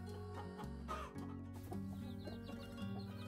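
Chickens and ducklings cluck and chirp in a farm coop, with a steady, dense chatter of close clucks and higher peeps running through the whole stretch.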